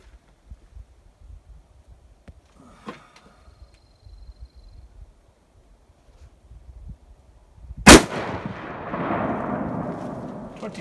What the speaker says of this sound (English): These are 180 grain Speer 348 bullets, flat noses. They should be going pretty fast.